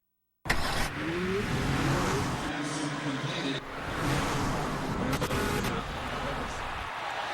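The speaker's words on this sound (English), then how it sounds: "Revs are coming up." A car engine revs up and holds a loud, steady roar, with brief whooshing surges and mechanical sounds layered over it.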